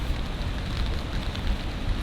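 Steady rain pattering on an elevated tent at a camping spot, a dense continuous hiss of drops with low rumbling texture throughout, no voices.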